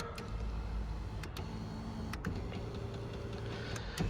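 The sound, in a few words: Dodge Ram 2500 power seat motor moving the seat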